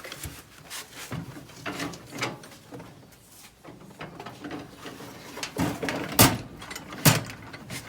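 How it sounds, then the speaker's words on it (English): A Craftsman tool chest drawer slides back into place with a series of scraping, knocking wooden-sounding bumps, ending in two sharp, loud clunks as it seats home. "now I can clean that all out and put my drawer back"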